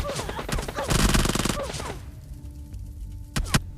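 Gunfire in the mobile battle royale game PUBG Lite, loud rapid bursts of shots close by for about two seconds, then a quieter lull broken by a couple of sharp single cracks.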